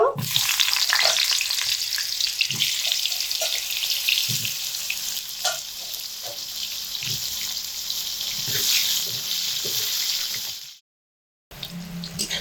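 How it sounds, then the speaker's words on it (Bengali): Eggplant pieces deep-frying in hot oil for shukto, a loud, dense crackling sizzle running steadily with small pops and clinks, cutting briefly to silence near the end before resuming. "এবার তেলের মধ্যে বেগুনগুলোকে দিয়ে দেব"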